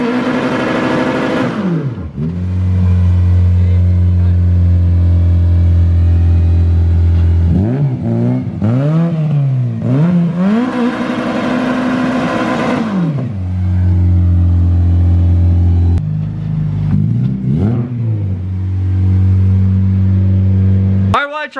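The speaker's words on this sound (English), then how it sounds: "I figured I'd at least end it with a burnout" A turbocharged car does a burnout, its engine revving hard in long, loud sustained pulls that drop off briefly between bursts, with the engine cutting out at moments from low fuel.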